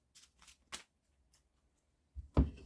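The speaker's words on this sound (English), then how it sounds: "the rest of them get shuffled back into my deck" Yu-Gi-Oh trading cards being shuffled back into a deck: a few faint, scattered card flicks and snaps close by, then a louder, fuller riffle burst at the end, with no talking.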